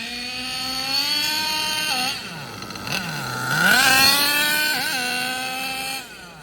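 The nitro engine of an HPI Savage 21 RC truck, newly fitted with an Alpha 28, buzzes high and loud, revving up and down with pitch drops where the gearbox shifts, close to the listener throughout.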